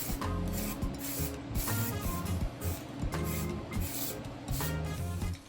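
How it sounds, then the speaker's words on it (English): Rattle can of self-etching primer hissing in short repeated bursts as a light dust coat goes onto a Sonoma S10 minitruck firewall, fairly quiet and close, no voices. "I start off with a light dusting of self-etching primer"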